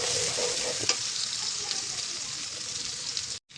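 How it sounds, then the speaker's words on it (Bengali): Onions frying well in a pan for a fish and potato curry, a steady dense sizzle that stays loud and even for about three seconds before a sudden brief drop, with a faint stir scrape early on. "তারপর পেঁয়াজটাকে ভালো করে ভাজা ভাজা করে নেব"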